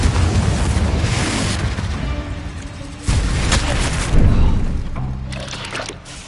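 Heavy, roaring blasts from the Bombarda spell in the video game Hogwarts Legacy rumble loudly and continuously, with sharp new hits striking at intervals over a thick sustained din.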